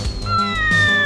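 A cat meows in a short drawn-out call with a rising, wavering tone, close and clear, followed by a second fainter cry, with no speech.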